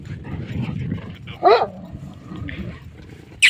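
A single dog gives a short, sharp yelp or bark over steady outdoor background noise, with another brief sound at the end.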